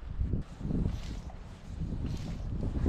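Strong, gusty wind roars steadily across the microphone beside a salmon river during fly fishing, a dense low rumble with no voices.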